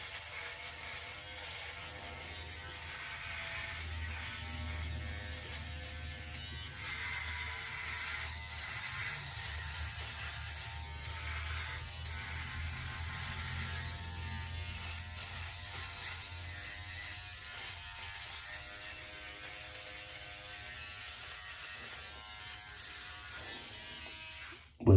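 A OneBlade electric razor shaving against the grain buzzes steadily and close for the full stretch, a continuous motor hum with no talking over it.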